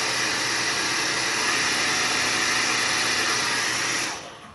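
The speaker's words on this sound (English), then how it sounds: "I would blast with the blow dryer" A blow dryer blasts air over freshly applied mascara on lashes, a loud steady close whoosh with a motor whine that runs unbroken and then cuts off abruptly near the end.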